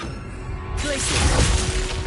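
The Glacius ice spell from the game Hogwarts Legacy starts with a quiet hum, then breaks into a bright crackling, shattering freeze that swells and stays loud to the end.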